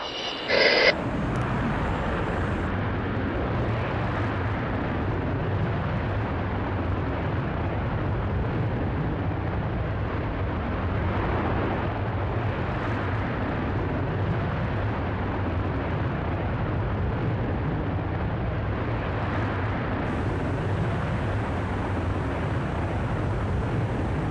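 The rocket motor of a Virgin Galactic spaceplane fires after release from the carrier aircraft, a sustained, loud, rough roar that holds steady after a brief burst at the start.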